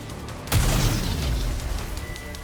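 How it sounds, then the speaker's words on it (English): A homemade explosive goes off in the video game NIKKE, a sudden deep boom with a rumbling tail that lingers and slowly fades, preceded by a quiet lull. "The explosions aren't stable."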